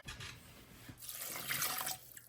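Water pours into a pot of chopped dates on a stovetop, a short quiet splash and trickle that swells briefly, then fades.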